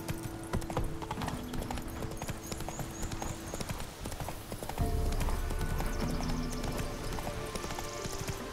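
Roach, the horse in The Witcher 3, gallops in quick rhythmic clip-clops under game music, the hoofbeats growing heavier and louder partway through, with a short whinny in the mix.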